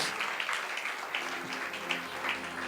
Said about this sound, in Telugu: దేవుడు నాతోనే మాట్లాడాడు, నన్ను బలపరిచాడు అన్న వాళ్ళందరూ గట్టిగా చప్పట్లు కొట్టి దీన్ని మైపరుద్దామా?